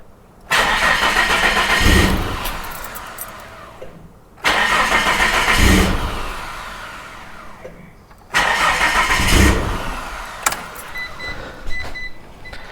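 An abandoned Mazda MX6 Turbo engine cranks three times in a row, each whirring start-up lasting a few seconds and then dying away, loud and close with no voices.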